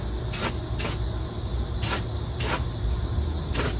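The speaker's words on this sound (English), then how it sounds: "I just so happened to find some white spray paint." White spray paint hisses from an aerosol can onto the rusty metal of a 1998 Chevy Tahoe, in five short, sharp bursts with quiet gaps between them.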